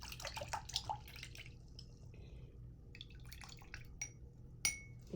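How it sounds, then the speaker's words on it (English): An acrylic paintbrush is swished and tapped in a water cup, giving faint drips, splashes and light glassy clinks in a quiet room. "So now I'm going to wash my brush."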